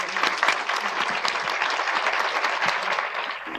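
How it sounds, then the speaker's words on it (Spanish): An audience in a school hall bursts into loud, sustained applause for a guest speaker before her talk, a dense wash of clapping that holds steady and tapers slightly at the end. "les pido un fortísimo aplauso para ella"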